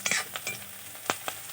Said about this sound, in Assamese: নহৰুখিনি দি 5 মিনিট মই এনেকৈ ভাজি ল'ম